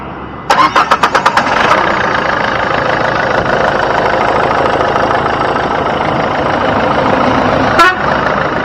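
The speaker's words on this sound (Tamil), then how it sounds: "வண்டியோட இன்ஜின் சவுண்டை பற்றினா லைவாக கேட்போம்" A Nissan Sunny car engine cranks with a quick series of rhythmic pulses, catches, then settles into a steady, close idle, with a brief click near the end.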